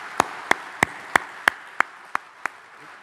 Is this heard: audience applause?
yes